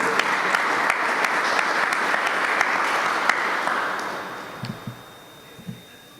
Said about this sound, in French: ouvrir les rideaux de cette célébration par un tonnerre d'applaudissements pour l'école mère